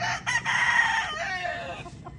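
A Claret gamefowl rooster crows once nearby, a loud, strained cock-a-doodle-doo rising and then trailing off over about two seconds.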